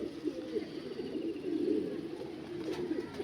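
Home-bred pigeons of a champion breed line coo in a low, continuous throaty burble that rises and falls in soft, rolling waves, close by and moderately quiet, with no other sounds over it.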